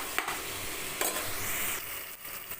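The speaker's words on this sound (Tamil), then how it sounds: "அதனால் கொஞ்சம் நேரம் அப்படியே வதங்கட்டும் தக்காளி." Tomatoes and onions sautéing in a pan, a steady close sizzle and hiss with a few faint stirring knocks throughout.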